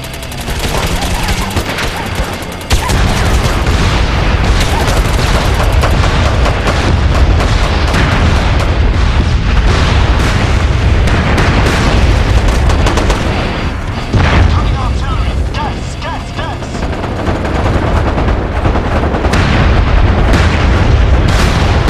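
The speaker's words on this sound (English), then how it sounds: "got incoming artillery fire" Artillery fire and explosions pound without pause in the online shooter MAG during an attack on a research site, with loud rolling booms and dense gunfire running throughout.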